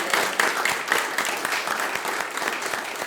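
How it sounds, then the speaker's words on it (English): An audience at a town hall event breaks into dense, steady applause, many hands clapping at once close by, with a few brief voices mixed into the sustained clatter. "Let's have a big round of applause for them."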